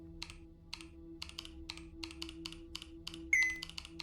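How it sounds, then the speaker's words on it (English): Computer keyboard arrow keys are tapped in a quick, irregular run of crisp clicks close up, over a steady low electrical hum, with a brief high beep partway through. "there I go using the arrow keys again"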